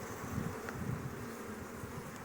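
Gökçeada honey bees buzz steadily around an opened hive box, a dense, continuous droning swarm heard close up and fairly soft, with no talking.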